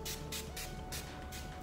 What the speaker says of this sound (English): So I'll show you how it sprays on.